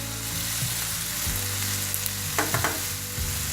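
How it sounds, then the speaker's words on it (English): Curry leaves sizzle and crackle steadily in hot oil while being stirred, with a few louder spits and scrapes of the spoon partway through and no voices. "the curry leaves have very beautiful raw flavor and fragrance. So I am going to stir it"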